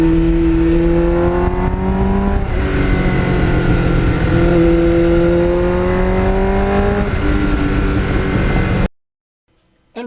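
A Kawasaki GPX750R Ninja with 38,000 miles revs hard with the throttle held open, a loud close engine roar whose pitch climbs and falls in surges before cutting off abruptly near the end.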